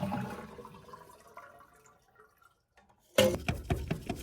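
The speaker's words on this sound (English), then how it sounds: "Then flush the toilet until you get as much of the water out of the tank as you can." A Kohler toilet being flushed to drain its tank: a faint trickle and drip fade to near silence, then a sudden loud rushing, gurgling flush bursts in near the end.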